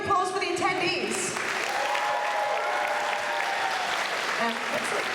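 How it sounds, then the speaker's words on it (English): A crowd of attendees at a convention's closing ceremony claps loudly and continuously, a full, even roar of applause, with a brief tonal sound right at the start. "So big round of applause for the attendees."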